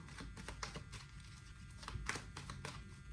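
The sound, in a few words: tarot cards being shuffled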